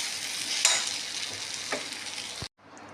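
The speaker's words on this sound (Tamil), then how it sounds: "போட்டு நல்லா வதக்கிடுங்க." Spices sizzling and being stirred in a pan for palak paneer gravy, a bright frying hiss with a few scraping stirs, then a sudden drop to quieter sizzling near the end; no talking.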